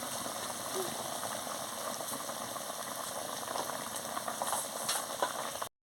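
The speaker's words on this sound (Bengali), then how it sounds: "টকবক করে ফুটছে" Okra and potato curry bubbling in a pot, a continuous soft boiling and sizzling hiss with faint liquid pops, fairly quiet and steady until it cuts off.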